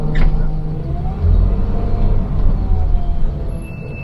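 A school bus creeping forward at walking pace, its low engine rumble steady and close with a slight rise in the middle, no talk.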